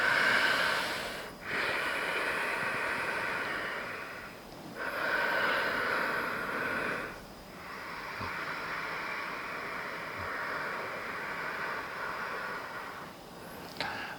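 Slow, deep breaths in a yoga pose, with long airy inhales and exhales in broad noisy swells, close and steady with brief pauses between, no talking.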